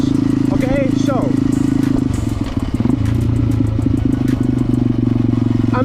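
A motorcycle engine blips and revs steadily while rev matching on a downshift, a loud close drone with rising and falling pitch and a brief dip midway, with someone talking over it.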